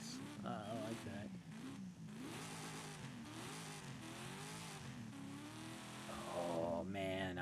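A 16-cylinder car engine in Forza Horizon 5 revs steadily, its pitch rising and falling in smooth sweeps, loud and continuous, with a brief burst of added noise near the end.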